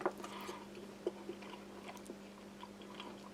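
Soft chunks of chicken from a French army ration being chewed close up, with quiet wet mouth sounds and a few small bites over a faint steady hum, no talking.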